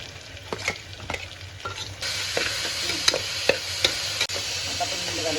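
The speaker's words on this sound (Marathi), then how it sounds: "कांदा टाकू आपण." Onion hits hot oil already holding mustard seeds, cumin, chilli and garlic paste, setting off a strong steady sizzle with sharp spoon taps and scraping strokes as it is stirred.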